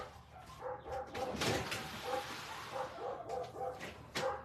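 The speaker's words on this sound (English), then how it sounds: "the dogs start barking" Dogs bark repeatedly from somewhere behind a door, a series of muffled, moderately distant bow-wows and yips in an uneven rhythm, with no voices.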